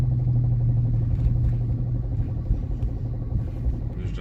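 A Dodge Charger R/T engine runs rough while driving, rumbling low and uneven, with a steady rough drone and faint clattering as the vehicle keeps moving.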